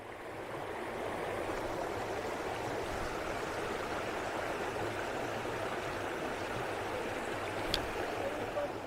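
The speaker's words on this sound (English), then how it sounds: "Faster moving water." Fast-moving river water at a busy spot in Thailand, a steady broad rushing wash that holds level throughout with a faint brief click near the end.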